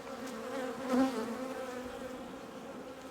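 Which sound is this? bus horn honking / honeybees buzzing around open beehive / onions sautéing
honeybees buzzing around open beehive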